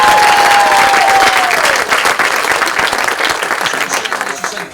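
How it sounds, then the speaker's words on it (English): Wedding guests break into loud, sustained applause for the bride, a dense wash of clapping with a brief whistle at the start that slowly thins out. "we should give her a round of applause"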